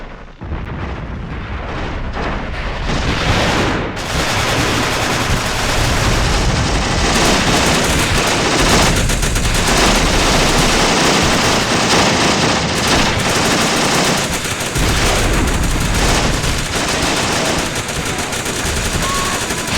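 Dense, continuous gunfire and machine-gun bursts mixed with booming blasts in the WWII strategy game Achtung Panzer Operation Star, loud and sustained with barely a pause throughout.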